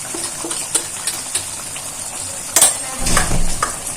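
Chicken masala with red chili powder is stirred in a hot pan, giving a steady close sizzle with scattered scraping clicks, then a louder burst of frying and stirring near the end.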